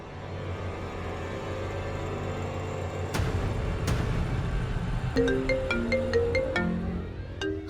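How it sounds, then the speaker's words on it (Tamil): A melodic phone ringtone starts partway through, a repeating sequence of bright electronic tones over steady background noise. "ஜானகி ஆண்டி, அம்மா ஃபோன் பண்றாங்க"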